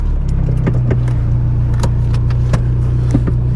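A Volkswagen Jetta's engine runs in a garage, a steady low idle close by with scattered clicks and light metallic rattles over it.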